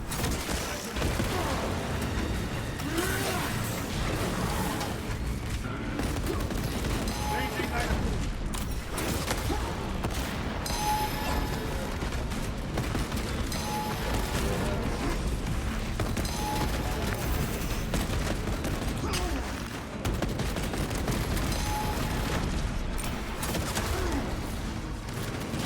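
Sustained heavy gunfire from Space Marine 2 rages without pause, dense bursts and booms layered with battle noise throughout, while a voice shouts over the chaos.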